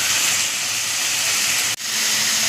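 Chopped tomatoes hit frying onions and neem leaves in a pan for kuzhambu, giving a steady loud hiss of sizzling oil that briefly cuts out, then resumes.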